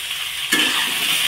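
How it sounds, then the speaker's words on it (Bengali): Cauliflower, potato and aubergine frying in oil in a pan, with a soft background hiss that jumps into a brighter, louder sizzle partway through and holds steady. "সুন্দর করে একটু ভেজে নেব সবজি।"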